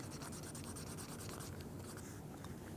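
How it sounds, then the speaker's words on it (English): A burnishing tool slicks down the edge of a leather gift card holder, giving a faint, continuous rubbing friction with quick back-and-forth strokes, close by and with no voices. "take our burnishing tool and we're just going to slick down the edge all the way around"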